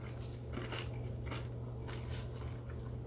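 Close, crunchy bites and chewing on a Southwest salad of tortilla chips, corn, tomato and black beans, with a few crisp crunches spread across a short stretch against a low steady background hum.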